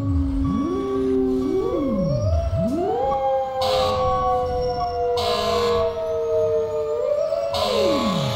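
A loud wailing siren in the emergency-response game EmergeNYC sweeps up and down repeatedly, steady and close, with no talking.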